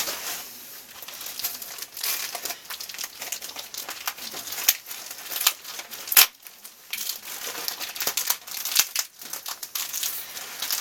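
An eBay package sealed with eBay tape being unwrapped, with close, continuous crinkling and crumpling of plastic and paper and sharp tearing bursts, no talking.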